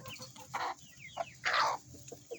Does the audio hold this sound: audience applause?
no